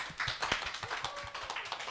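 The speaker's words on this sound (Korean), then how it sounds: "다들 박수 한번 칠까요?" Small group of people clapping at a Sunday youth worship service in a church, a brief burst of quick, uneven hand claps close by, with no talking over it.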